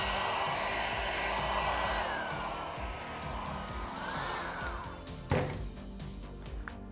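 A heat gun blows a steady, fairly loud rush of hot air onto vinyl wrap on the bed side of a Tesla Cybertruck, with a sharp knock near the end.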